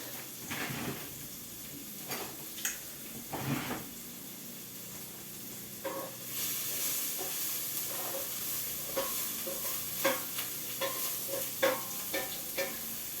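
Shallots sizzle and fry in a home kitchen pan, a steady close hiss with scattered stirring clatters and scrapes, alone without talk.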